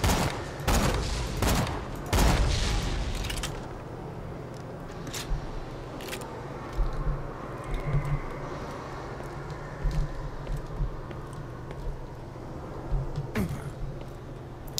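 Sharp gunshots from a sniper rifle in Borderlands: The Pre-Sequel, played on PC: a few loud cracks early, then scattered single shots over a steady in-game rumble.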